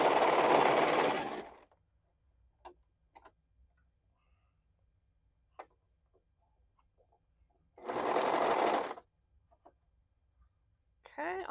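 A sewing machine stitches a neckband onto a garment in two loud, steady bursts of roughly two seconds each, separated by a quiet stretch with small clicks and handling taps.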